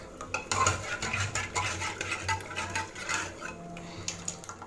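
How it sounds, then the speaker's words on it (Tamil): A ladle mashes and stirs cooked toor dal for sambar in a metal pot, giving steady scraping and clinking strokes against the vessel, close and moderately loud, with no talking. "இந்த கரண்டி வச்சோ இந்த மாதிரி கொஞ்சம் நல்லா கடைஞ்சி விடுங்க"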